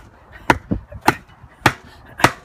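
Metal-pointed stakes driven into garden ground for a greenhouse frame: four sharp, evenly spaced hammer strikes, each with a softer rebound knock between them, close and clear with no talking.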